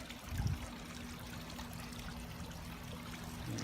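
Water from a small garden koi pond waterfall trickles and splashes steadily at low volume, with a faint low hum and a slightly louder splash near the start, no voices.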